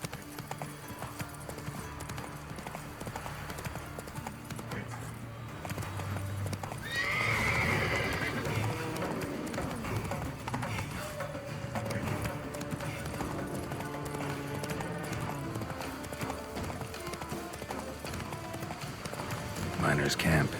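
Hooves of the horse Roach in The Witcher 3 pound in a steady galloping rhythm, with a loud whinny partway through, set against game music and a voice.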